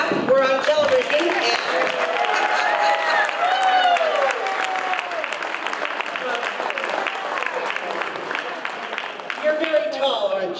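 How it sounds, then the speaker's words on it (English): A studio comedy-club audience claps steadily for about ten seconds, dense and sustained, with a voice talking and calling out over the applause. "Everybody, let's clap."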